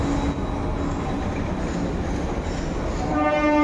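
An underwater metro train runs through a tunnel with a loud, steady rumbling roar, growing slightly with a rising whine near the end.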